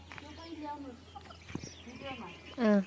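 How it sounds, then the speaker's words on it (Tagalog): Backyard broiler chickens cluck and murmur in short bursts under someone speaking, ending with one loud, drawn-out squawk close by. "So, ayan yung ating manok na ayaw umuwi."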